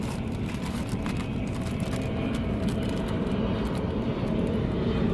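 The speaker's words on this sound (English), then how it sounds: "Sorry about the plane. We live near an airport." A steady low roar of an airplane passing overhead near an airport, broad and rumbling, holding at a constant level throughout with no voices.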